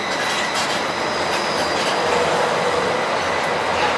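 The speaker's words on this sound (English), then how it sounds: "Oh, there goes the monorail." The Disneyland monorail rushes past at close range with a loud continuous rumble and rail hiss, plus a faint high whine, for about four seconds with no talking.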